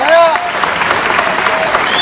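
An audience claps after a song, a loud, steady wash of applause with a few voices and whistles mixed in at the start.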